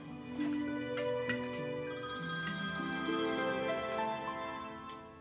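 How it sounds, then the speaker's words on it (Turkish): A mobile phone ringtone plays at steady volume for about five seconds, a melodic electronic tune with bright repeating tones and no talk over it. "Benim telefonum."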